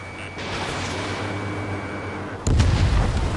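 In the Ace Combat 7: Skies Unknown combat flight game, a missile strikes the player's aircraft: a steady engine drone breaks into a sudden loud, rumbling explosive impact that sustains to the end.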